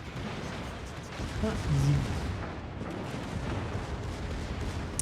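Naval gun salvos and torpedo hits from a World of Warships battle involving the cruiser Drake rumble as deep booms beneath steady, excited talk from game commentators.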